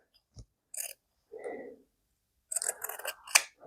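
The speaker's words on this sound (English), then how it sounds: "Let's trim this a little first. We've got a lot of extra fabric up here." Small sharp scissors snip through extra fabric on a cross-stitch finishing piece, a few separate quiet cuts then a quicker cluster of snips, close up with no talking.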